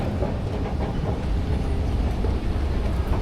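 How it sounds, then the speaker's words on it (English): An airport tram train running to the D gates rumbles steadily with low, continuous rolling noise and faint clatter, close by, with no talk. "We want the tram to the D gates."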